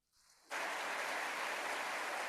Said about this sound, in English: Let's have a round of applause for your parents here, everyone.